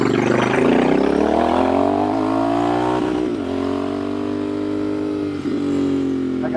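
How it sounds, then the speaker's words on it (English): A motorcycle rides up from behind a new Royal Enfield Bear 650, its engine droning steadily and loudly, with pitch rising as it accelerates before levelling off, then one brief dip. "I got a guy riding up behind us on a motorcycle."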